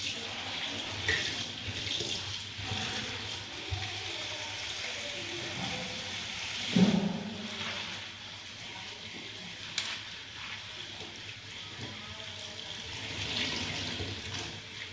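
Tap water runs steadily into a sink while cut taro (colocasia) is washed for cooking, a soft continuous splashing with a few louder knocks and splashes, heard alone without talk.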